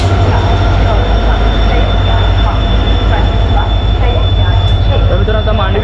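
The Mandavi Express rolls into a station, a loud, continuous rumble of wheels and carriages with faint squeals, close by and constant throughout.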